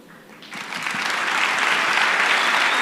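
An audience at a live event in Santa Fe bursts into applause, swelling within half a second into loud, dense, sustained clapping with no voices over it.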